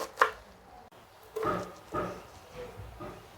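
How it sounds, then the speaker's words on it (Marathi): Spinach is chopped finely with a knife on a board: a sharp first cut, then several slower, softer strokes spaced about half a second apart, close and quiet. "सगळी पालक मी चांगली बारीक अशी चिरून घेते."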